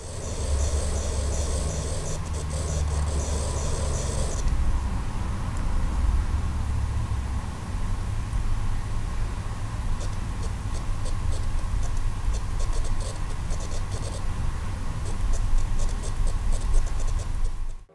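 Soft, scratchy strokes like pencil on paper, a Samsung Galaxy S22 Ultra imitating the sound as its S Pen stylus writes, coming in short bursts with pauses, over a faint steady background hum.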